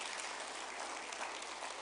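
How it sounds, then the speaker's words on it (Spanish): A church congregation applauds in a steady, dense wash of clapping that sounds faint and distant and continues evenly without a break. "Dele un aplauso al Señor por la justificación que Dios nos ha dado"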